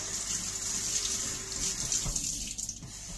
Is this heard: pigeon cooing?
no